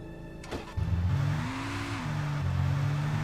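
A car in the video game Alan Wake Remastered starts off after a brief click, its mid-pitched engine rising and revving steadily as it accelerates, close and sustained to the end.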